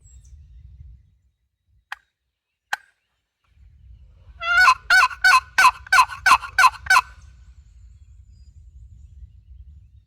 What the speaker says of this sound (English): Gobbled at them crows is what he was gobbling at